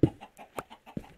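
Chickens clucking in the Minecraft video game: several short, clipped clucks spaced through about a second, fairly close and clear with no talk over them.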